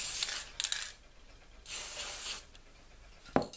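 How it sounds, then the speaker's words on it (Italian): Spray glue hisses from a can onto a polystyrene ball in a Christmas ornament craft, in three short bursts and a longer steady spray, close and fairly quiet, with no talking. "Ora prendo la colla spray"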